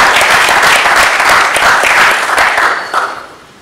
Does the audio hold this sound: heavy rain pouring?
no